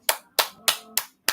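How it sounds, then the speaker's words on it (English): A single person claps hands five times at an even, unhurried pace, each clap crisp, close and isolated against near silence. "I just want to give you a clap."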